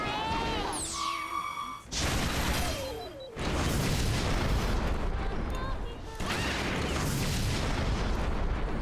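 A fully charged attack in the Fuga: Melodies of Steel video game lands as heavy booming blasts and whooshing sweeps, loud and sustained after a brief rising tone.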